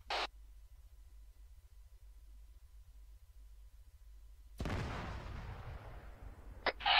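Grenade explosion in a video game: a sudden loud blast that rolls into a long noisy decay after a stretch of near silence, preceded and followed by short bright bursts.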